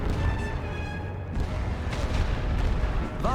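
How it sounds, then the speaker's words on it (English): Sustained battlefield barrage of machine-gun and artillery fire from a Great War Western Front strategy game, a dense, continuous loud rumble with crackling bursts throughout and no pauses. "These are now going to hit from MGs and artillery."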